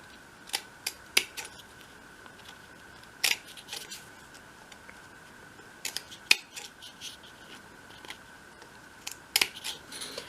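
Scissors snip the corners of a 1/12 scale model piece in short, crisp cuts, scattered singly and in quick pairs against a quiet background.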